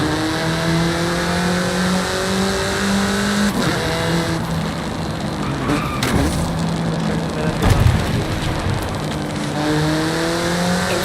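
A car engine in the racing game Forza Horizon 5 revs and accelerates through rising gear sweeps, dropping pitch at shifts, loud and close with tire noise, alone without talk.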